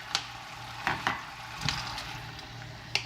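Sauce for pan-fried steelhead with five pickled vegetables bubbling over high heat, a steady soft sizzle with a few sharper pops and utensil taps scattered through, close by and fairly quiet, with no talking.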